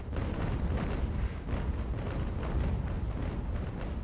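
A sailing warship explodes in the naval battle game Ultimate Admiral: Age of Sail, a dense, sustained roar of rumbling booms and crackling blasts holding loud and steady throughout with no talk.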